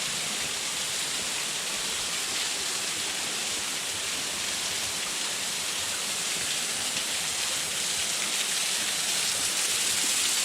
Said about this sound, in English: It's a waterfall that you can walk behind